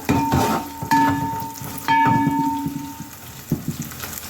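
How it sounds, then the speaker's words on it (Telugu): Two large onions, cut into pieces, fry in a pan for pesari pappu biryani. A steady sizzle carries repeated stirring strokes and metallic scrapes and clinks of a spoon against the pan, close up with no talk. "ఉల్లిపాయ ముక్కలు వేస్తున్నాను"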